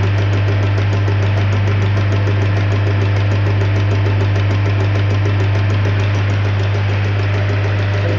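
A diesel engine in an Isuzu Panther 2.5, just after fuel injection pump calibration, runs loud and steady at idle with a deep, constant drone and a fast, even knock throughout.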